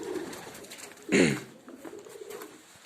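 Pigeon cooing near its nest where young are hatching, one short clear coo rising out of quiet background noise midway, fairly close.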